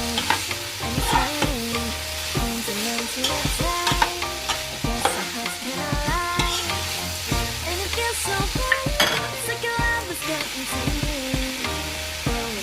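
Cabbage and potatoes stirred as they fry in a pan, a steady sizzle running throughout beneath repeated scraping and clattering strokes of a utensil, close and fairly loud with no talking.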